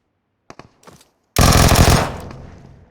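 PUBG Mobile gunfire on the Livik map: a few faint clicks lead into one loud, close burst of automatic fire that rings out and slowly fades.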